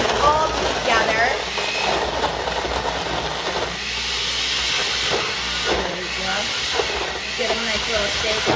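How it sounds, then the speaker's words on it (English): A kitchen blender runs loud and steady while mixing a healthy Halloween recipe for kids, a continuous whirring roar with voices talking over it. "It's gonna get really loud, but that's a blender for you."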